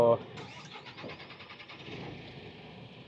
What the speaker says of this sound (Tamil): ஸோ இன்ஜின் ஸ்டார்ட் ஆகிருச்சு.